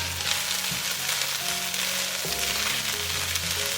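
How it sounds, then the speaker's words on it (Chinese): Garlic and dried preserved mustard greens stir-fried in rendered pork belly fat, a steady close sizzle with soft stirring, with a low hum running underneath throughout. "把五花肉的油逼出来之后呢，加入蒜末跟梅菜干"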